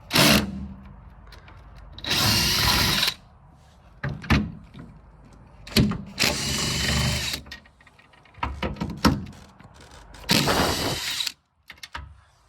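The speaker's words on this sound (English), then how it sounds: "you're gonna have to drill that hole" Several loud bursts of a power drill whirring as it drills a hole in plastic while installing a Rough County MOLLE panel, each lasting about a second, separated by quieter clicks and handling noises.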